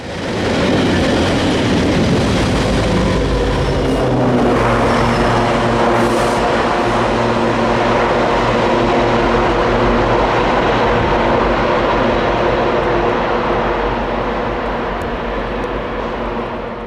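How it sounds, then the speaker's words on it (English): An eastbound intermodal freight train eases through a deep mountain cut in the Alleghenies, a loud continuous rumble of wagons with engine drone and steady wheel noise that holds for the whole stretch and fades slightly at the end. "eastbound intermodal 10K was seen easing through the deepest cut in the Alleghenies"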